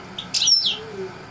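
A pet canary sings a brief, bright burst of high chirps and trills, close and clear over a faint low background hum.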